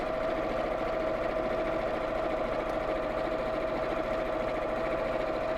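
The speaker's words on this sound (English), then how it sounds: "So let's sew across the bottom quite close to the fold." A sewing machine runs steadily, stitching across the bottom of a child's drawstring backpack close to the fold, with a continuous even whir and no pauses throughout.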